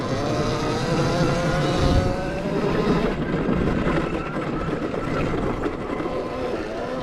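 A 25 kW electric enduro motorcycle is ridden, producing a continuous loud whirring motor whine layered with rushing wind and rolling tyre noise, steady throughout and close to the rider.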